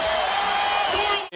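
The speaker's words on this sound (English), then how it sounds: "And listen to this crowd now" A basketball arena crowd roars and cheers at a Knicks playoff game against the Cavaliers, a sustained loud wash of noise that cuts off abruptly at the end.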